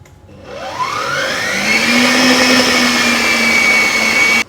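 An electric whisk whirs steadily through brownie batter mixed with chocolate, its motor tone loud and close, climbing in pitch and holding for a few seconds before cutting off abruptly.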